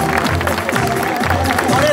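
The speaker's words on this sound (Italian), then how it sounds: "Allora, signore, facciamoci un applauso" An audience at a live comedy show in Senise breaks into applause mixed with crowd noise and cheering, loud and close, with a voice talking over the clapping.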